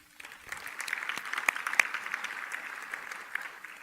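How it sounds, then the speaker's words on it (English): An audience applauding, with the clapping swelling after a quiet start and then holding steady, a few sharper claps standing out. "Let's give them a round of applause."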